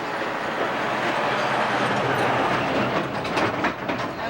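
A sightseeing tour train rolls steadily along during a 1992 spring break cruise excursion, a continuous close rumble with rail clatter and a few brighter clicks near the end, no talk.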